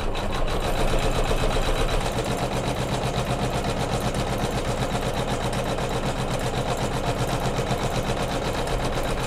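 A Kimberbell embroidery machine stitches a border scroll quilting design on a pillow flange, giving a steady, loud, rhythmic mechanical hum that pulses evenly throughout with no talking.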